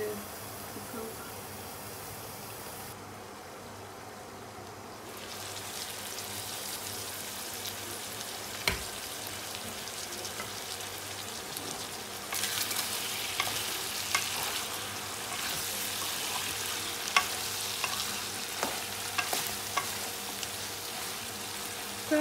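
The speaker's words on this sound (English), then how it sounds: "So I cooked the lamb with the onions and chilies and garlic." Lamb frying in a pan with onions, chilies and garlic, a steady broad sizzle running throughout with occasional sharp clicks of a utensil against the pan, growing louder and brighter in the second half.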